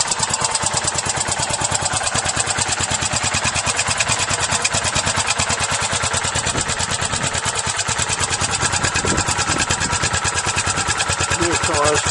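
A Yamaha SRX 600 snowmobile engine idles steadily nearby with a fast, even, throbbing rhythm that stays constant throughout.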